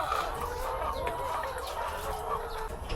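Pullets in a poultry house clucking steadily, a dense chorus of many birds close by with a continuous murmur of calls throughout.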